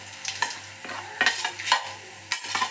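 Coriander seeds fry in a hot pan while being stirred, with steady sizzling punctuated by several sharp scraping strokes at an uneven rhythm, close by and with no talking.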